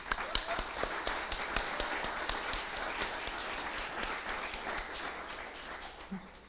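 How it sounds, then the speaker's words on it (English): Audience applause for sponsors at a storytelling evening, with distinct individual claps standing out over a softer bed of clapping, moderately loud and sustained, fading near the end. "Please join us in giving our sponsors a round of applause."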